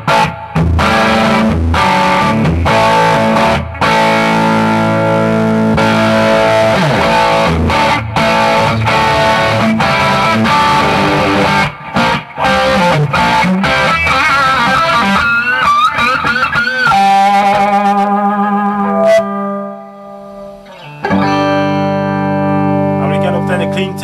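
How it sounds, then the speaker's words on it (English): Electric guitar played through an amp set to distortion with an effects pedal in the chain, loud sustained chords and riffs ringing with heavy drive and rich harmonics, ending on lingering notes. "We put the amp in distortion and put the pedal inside."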